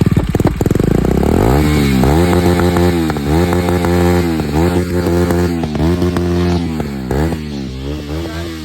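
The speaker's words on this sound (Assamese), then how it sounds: "তো গাইজ ডিউক 250 RPM শুনাই আছোঁ তোমালোকক" A Duke 250 motorcycle engine is revved hard and close, the throttle blipped again and again so the pitch climbs and drops in repeated loud surges over a steady idle.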